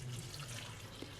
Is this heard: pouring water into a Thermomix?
yes